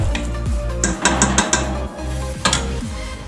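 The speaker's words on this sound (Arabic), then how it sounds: "بعد ما تقلات لينا البرمه، تقلات لينا مزيان" Pot of cornmeal badaz frying and being stirred, with steady sizzling under a series of scraping strokes and light metallic clinks of the utensil against the pot, close and fairly loud.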